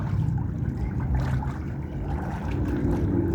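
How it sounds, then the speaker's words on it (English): A loud Ford Mustang engine gives a low, steady rumble that drones throughout, loud and close, with no clear gaps or speech. "Did you hear that engine? He's a bad man. He's got a loud engine."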